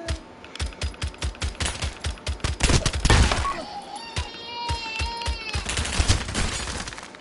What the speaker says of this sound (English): I'm shooting him right in the head